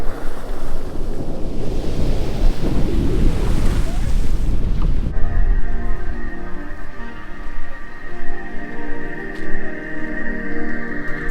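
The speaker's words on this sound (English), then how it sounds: "the tide goes out and it comes back in and the water just splashes up" Ocean water washes and splashes onto the shore at Ocean Cay beach, a steady loud rush with wind noise over the microphone, partway through giving way to a quieter scene with a steady tonal hum.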